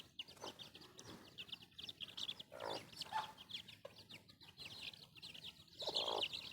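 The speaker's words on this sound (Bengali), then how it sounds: "এখানে অনেকগুলো দেশি মুরগির বাচ্চা আছে" Many small native (desi) chicken chicks, about thirty, cheep continuously in a high, busy chorus, with occasional louder clucks from a hen close by.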